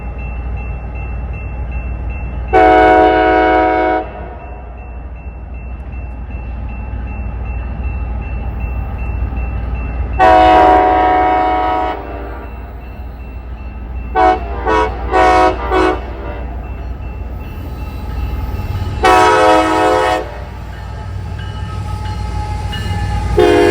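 A 28-car freight train, M634, rolls northbound through the Route 161 railroad crossing on the Columbus subdivision, its loud horn sounding in four bursts, a long, long, short pattern then long, over a steady rumble of passing cars.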